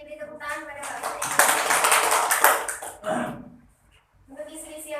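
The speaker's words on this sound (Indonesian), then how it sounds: "beri tepuk tangan pada Mbak Fitri" Brief burst of classroom applause for a student in an Islamic jurisprudence lesson, several seconds of dense clapping that fades into quiet, with voices around it.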